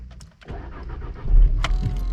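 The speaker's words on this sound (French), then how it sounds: "Là, je vais démarrer la voiture." An Audi Q2 car being started, with a click and key jingle and then the engine cranking and catching into a loud, steady low idle, close up with no talking.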